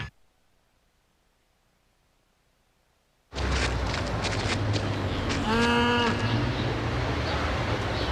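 Cows mooing in a Chick-fil-A TV advert, silence giving way abruptly to a loud bed of noise, with a long drawn-out moo rising clearly above it near the middle.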